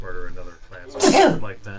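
A single sharp sneeze bursts out in the middle of people talking, loud and close, with conversation resuming right after.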